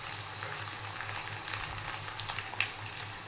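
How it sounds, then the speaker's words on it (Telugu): Ginger garlic paste and curry leaves fry in hot oil with a steady, close sizzle and faint crackles running through, no voices over it. "అల్లం వెల్లుల్లి పేస్ట్ వేగినప్పుడే కొంచెం కరివేపాకు కూడా వేసుకుందాం."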